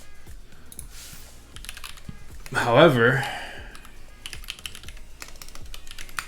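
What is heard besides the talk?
typing on a custom Ibis computer keyboard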